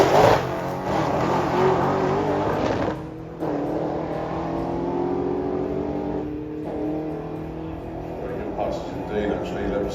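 Engine note of Pete's 408 at full throttle into boost, a sustained roaring drone with uneven surging in level, briefly dipping twice; speech-like tones are tagged but no words are heard.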